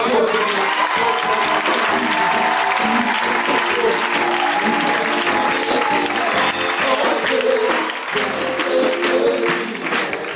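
A church congregation applauds to acclaim the name of Jesus, sustained dense clapping mixed with crowd voices and cheering for about ten seconds, loud and steady throughout.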